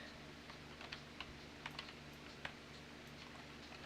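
Faint typing on a computer keyboard, with scattered soft key clicks in an irregular rhythm at a distance over a steady low hum, no talking.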